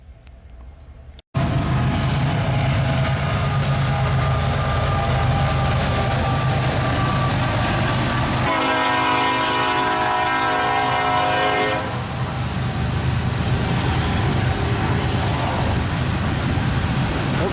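An eastbound Union Pacific freight train passes at Mechanicsville, Iowa, rumbling loudly and continuously with wheel clatter. A long horn blast sounds midway through, and the train noise starts abruptly after a brief quiet opening.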